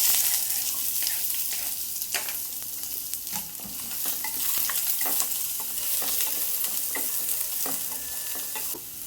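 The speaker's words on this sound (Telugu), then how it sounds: "ఇవి బాగా ఫ్రై అవ్వాలి" Onions with ginger and garlic frying in a pan for a cashew, peas and paneer curry: a steady, close sizzle carries on throughout, with frequent small crackles and scraping stir clicks and no voices.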